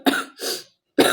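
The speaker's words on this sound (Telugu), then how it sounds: "కాఫ్ ఇంకా తగ్గలేదమ్మా" A person with a lingering cold gives three quick, harsh coughs, close and loud, with short silent gaps between them.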